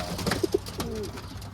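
Racing pigeons coo softly around a loft, with a few short throaty coos over a steady low background hum, fairly close and unhurried, with no talk.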